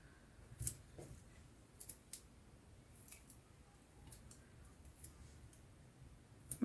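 Non-stick scissors gum-sticky from not being cleaned snip recycled Christmas card, giving faint, sparse clicks and crisp cuts at irregular intervals in a quiet room, with no talking.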